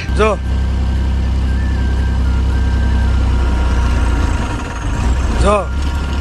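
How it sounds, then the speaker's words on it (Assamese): A truck being driven has a steady, loud engine rumble throughout, with a couple of brief horn-like warbling tones near the start and end. "মুন্না ভাই আমাৰ গাড়ী ট্ৰাকখন চলাই আছে"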